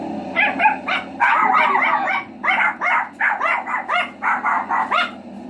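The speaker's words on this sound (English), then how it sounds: "My dog started going crazy." A dog barks excitedly, a rapid run of loud, close yips and barks with a few whiny notes, continuing for several seconds with no talk over it.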